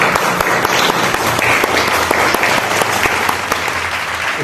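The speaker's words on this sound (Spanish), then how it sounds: "Fuertes aplausos." Loud, dense applause from an audience at a book presentation on the Eguren family history, steady and sustained throughout with no speech over it.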